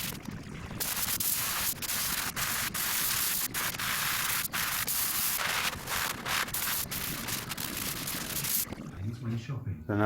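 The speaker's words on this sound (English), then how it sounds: "get that sanded down, and it's dust them down and seal them" Sanding down wooden support pieces for a handmade music production desk, a continuous close scratchy rasp with brief breaks, then a short stretch of quieter noise at the end.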